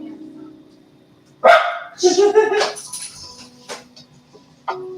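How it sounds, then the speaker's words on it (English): A dog lets out a few sharp barks near the microphone over steady background hum, with a brief voice in between. "What's she barking at?"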